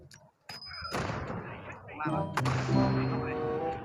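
A grenade detonates in the shooter game Omega Legends, with a few sharp, heavy blasts ringing out amid game effects while someone talks excitedly in Thai.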